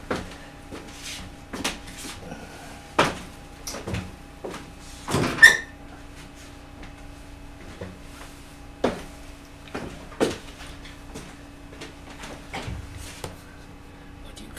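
An indoor door is closed amid scattered wooden clicks and knocks, with one louder thud standing out near the middle over a faint steady hum.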